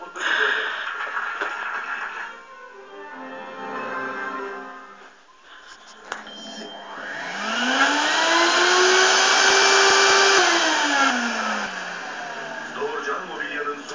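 An electric vacuum cleaner, switched on with a TV remote, whines up to a loud rising motor hum, holds, then winds down, with people talking before it starts.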